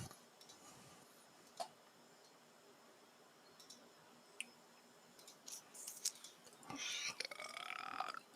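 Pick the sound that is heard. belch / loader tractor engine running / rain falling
belch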